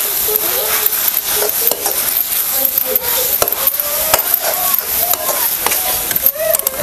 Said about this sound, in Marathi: कांदा हे कोबी वगैरे घातलं त्यामध्ये आपल्याला सगळं एकजीव करून घ्यायचं